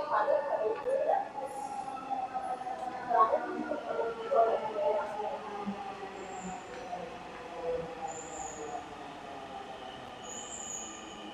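A metro train at Mirpur metro station, a rumbling run with high squealing wheel tones that fade as it moves off, and faint chimes drifting in later.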